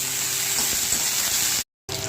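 Moringa leaves hit hot oil already holding cashews, onion, garlic, ginger and chili, producing a loud, continuous close-up sizzle that cuts out briefly near the end before resuming.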